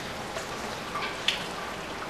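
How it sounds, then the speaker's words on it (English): Rain falls outdoors at Cumberland Mountain State Park, a soft, steady hiss with a few scattered drop taps, fairly quiet and with no talking. "it's a nice rainy day."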